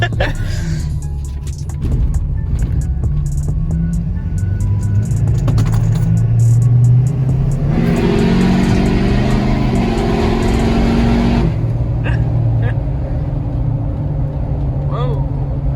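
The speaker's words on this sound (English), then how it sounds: "I'm racing that Hellcat" A lifted show truck engine roars steadily while racing a Dodge Hellcat, its loud drone swelling harder in the middle, with people talking over the noise inside the cab.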